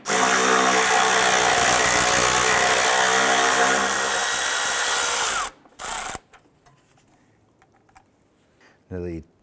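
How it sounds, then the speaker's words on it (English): A power tool whirs continuously as it removes a 10mm bolt near the ABS module of a 2001-2005 Honda Civic, loud and close for about five seconds, then stops with brief short bursts and quiet after. "I'm going to remove this 10mm bolt right here."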